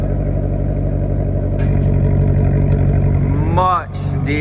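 A Maserati GranTurismo S idles with its exhaust valves open, a deep rumble rising into a quick rev near the end, with people talking over it.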